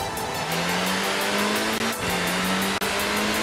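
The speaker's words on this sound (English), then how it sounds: "Little Mini Cooper." A small Mini Cooper in Forza Horizon 4 drones with a steady, loud engine tone that climbs gradually, broken by two brief gear-shift dips, with no talk over it.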